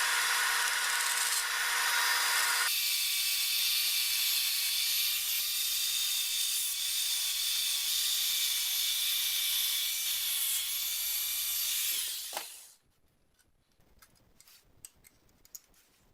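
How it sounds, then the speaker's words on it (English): A grinder wears down pressed bumps on an old French Moulinette food mincer, a loud continuous whine and hiss that shifts in tone, then spins down around twelve seconds, leaving faint clicks and handling noise. "The only way to remove this locking mechanism is to grind down these little bumps made by some sort of press or punch"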